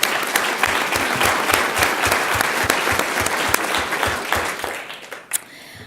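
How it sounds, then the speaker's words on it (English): Steady applause from a sizable crowd at a school governing board meeting, dense clapping that continues for several seconds before tapering off. "we can give you a round of applause"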